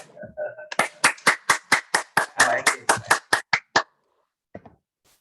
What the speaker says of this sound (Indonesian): Leader kita berikan tepuk tangan secara kuat